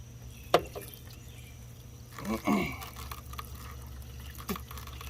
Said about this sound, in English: now we're just going to gently add distilled water